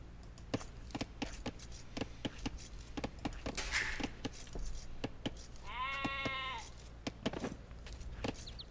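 A single sheep in Age of Empires II lets out one clear bleat midway, set against the game's ambient bed of sparse clicks and soft rustling, with no talk over it.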